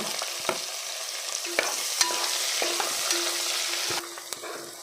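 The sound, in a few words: onion frying and stirring in a pan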